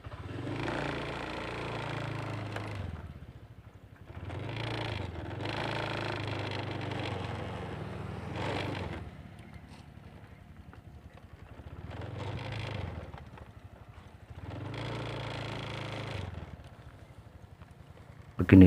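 A motorcycle rides along a village road, its engine rising and falling in repeated surges of acceleration and easing off, loud and close throughout with a brief clatter at the end.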